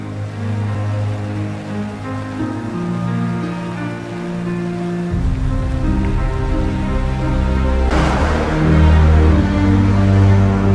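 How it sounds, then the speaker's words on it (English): Rain falls steadily at night along the route of the Spartathlon ultramarathon in Greece, a continuous even hiss close by, with low sustained tones and a brighter swell of patter near the end. "The threat of rain is ever present."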